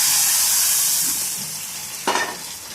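A tempering of mustard seeds, fenugreek and green chillies fried in oil is poured into a jackfruit-seed buttermilk curry. A loud hiss fades gradually, then a sudden fresh sizzling burst flares up near the end.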